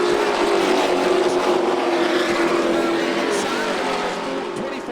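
Pickup trucks race around the Volusia Speedway Park dirt oval in a Pro Truck Challenge event, their engines a loud, sustained roar that drones on near and steady, with a race announcer talking over it.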